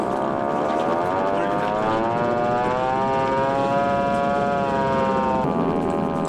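An antique hand-cranked fire alarm siren at a farm tool museum wails with a sustained rising and falling tone, loud and close, against background noise.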